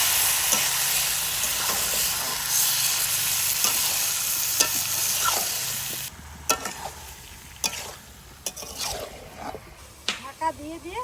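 Dried chili, bay leaf, cardamom, cinnamon and clove fry in hot mustard oil, a loud steady sizzle that eases off partway, followed by scattered clinks and stirring sounds while someone talks.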